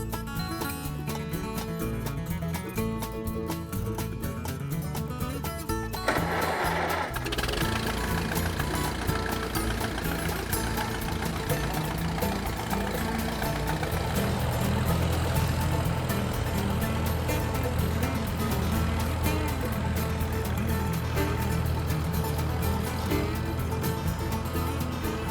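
An old tractor engine from a collection runs continuously close by, a low rough chugging rumble that holds steady and grows heavier partway through, with no talk over it.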